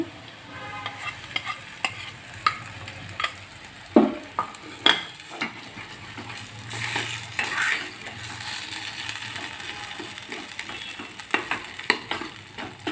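Boiled, smashed potato frying in a pan, with close spatula stirring and scraping, clinks against the pan and a continuous sizzle that grows denser midway.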